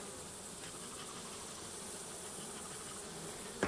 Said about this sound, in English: Seeing a lot of dark bees.